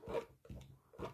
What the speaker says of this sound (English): see what it feels like to use a palette knife